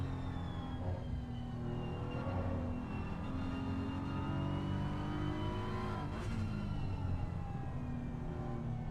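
Race car engine in Assetto Corsa Competizione on the Nürburgring, a continuous faint whine that sweeps up and down in pitch as the car revs and shifts, with no talking over it.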